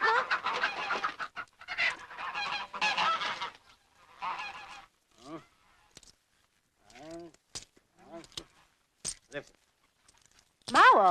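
Geese honk and cackle in a noisy flock, their calls scattered and overlapping, with people's voices mixed in during the first part.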